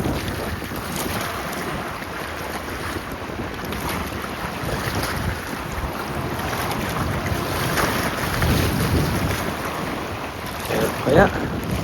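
Loud, constant wind buffeting the microphone on a boat during a cold-weather fishing trip, a rumbling roar with water and boat noise beneath it, swelling near the end.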